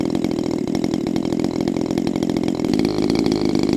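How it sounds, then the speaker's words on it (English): A small engine being broken in runs on a rich fuel mixture, giving a loud, close, steady buzzing drone with a rapid, even pulse and no speech over it. "So I'll show you, I can kill the engine like this."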